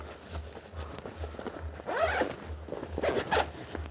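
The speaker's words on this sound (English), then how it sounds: "Now this attaches to the back of the bag, zips on" A zipper runs along a backpack as a detachable day bag is zipped onto it, giving several close, rasping pulls of varying length, alone and without talk.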